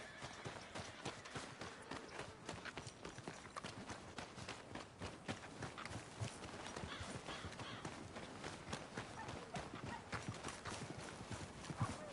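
Horse hooves clip-clopping in the video game Red Dead Redemption 2, a quick continuous run of hoofbeats at steady speed, fairly quiet with no talking.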